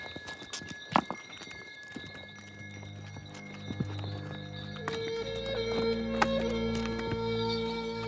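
Horses climb a mountain trail on the tea route in China, their hooves clopping in irregular, close steps over rough ground, with scattered clatters and a short, brief whinny-like call.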